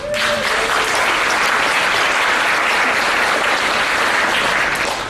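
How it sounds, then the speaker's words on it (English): Applause from a large audience at an American Counseling Association opening keynote, a steady dense wash of clapping that holds loud and even throughout with no talk over it. "I'd like you to give yourselves and your colleagues a round of applause"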